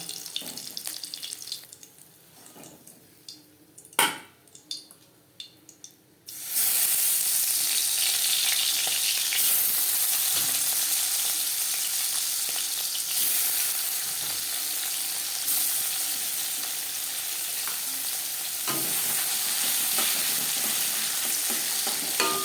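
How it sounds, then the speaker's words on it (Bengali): After a few quiet clinks, a loud continuous sizzle of tangra fish frying in hot oil in a wok starts suddenly and keeps crackling steadily. "পরের মাছ একইভাবে ভেজে নেবো"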